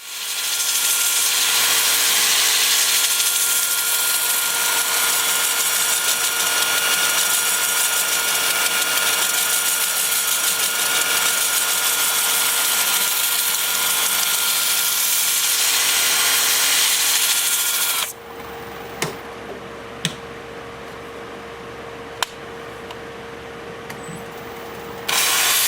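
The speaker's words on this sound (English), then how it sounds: "I'm sanding forward and reverse" Hard wood is sanded while spinning on a wood lathe: a loud, continuous rushing hiss and whir for about eighteen seconds, then it drops away to a quieter background with a few sharp clicks.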